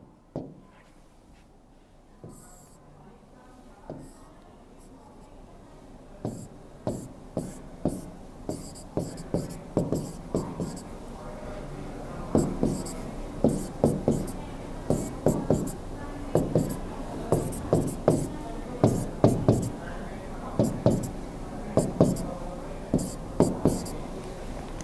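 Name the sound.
marker or chalk drawing on a board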